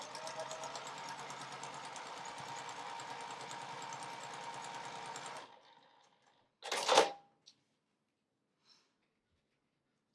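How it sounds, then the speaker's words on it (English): A sewing machine runs steadily for about five seconds as a quarter-inch seam is stitched across a four-patch quilt block, followed by a sharp clunk and a few faint clicks in near silence. "So I'm going to hold them together and sew a 1/4-inch seam across here"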